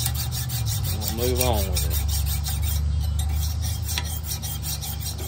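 The bevels of a freshly forged blade are hand filed with quick, regular, rasping strokes that continue steadily and close by. Someone speaks briefly partway through, and the filing carries on under his voice.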